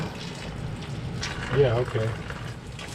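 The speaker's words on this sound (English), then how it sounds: "I turned it on and the water came all over my back." Water bursting and spraying from an unconnected hot water pipe on a home addition's plumbing when the main is turned on, a short splashy gush under close talk and a startled voice.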